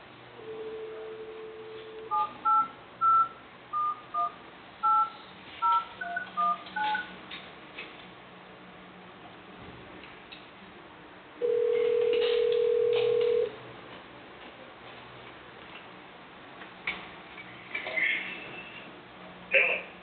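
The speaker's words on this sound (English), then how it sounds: "Can I put you on hold to get Tim Johnson on the phone so you guys can conference with the commission?" Touch-tone dialing on a phone line while setting up a conference call for a commission meeting: a quick run of keypad beeps, a short tone, then a steady two-second tone, with faint line noise and talk.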